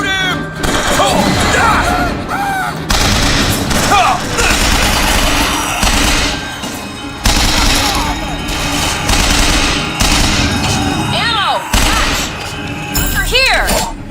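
Gunfire in the video game Bioshock Infinite, at the First Lady's Aerodrome, loud, dense bursts and booming shots close up, mixed with shouting voices throughout.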